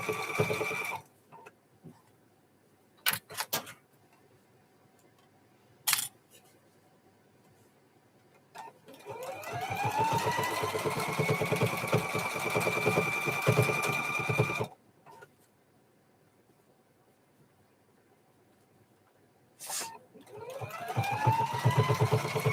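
A serger overlock sewing machine stitches hoodie fabric in two bursts of fast, whirring buzz, with short clicks and handling noises in the pauses between runs.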